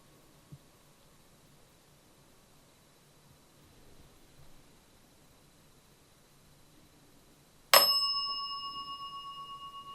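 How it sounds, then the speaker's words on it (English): A ghost-hunting dead bell device rings once with a sharp, clear electronic ding that then decays in a sustained, slowly fading tone. It follows a quiet stretch of faint room hiss, and no one speaks. "could you go up to that dead bell"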